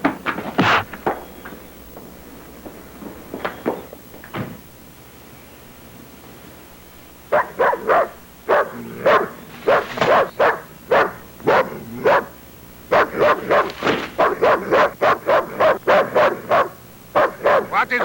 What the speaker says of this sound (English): What is all the racket? Why is Bruno howling like that?